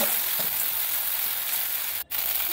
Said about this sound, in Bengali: এরপরে আদা রসুনের পেস্ট দিয়ে দেবো।